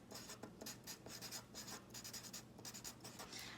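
A name is signed in pencil on paper in a fifth-grade classroom, with short, repeated scratchy strokes coming up close and fairly quiet.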